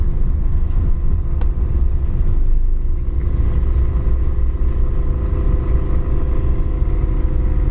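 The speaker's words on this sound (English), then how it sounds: "Kickdown works great on the transmission. Car picks up speed nicely." A 1959 Ford Retractable, coral and white, drives and picks up speed, its engine a steady low rumble heard from inside the car, loud and continuous, with faint rattles and no talk.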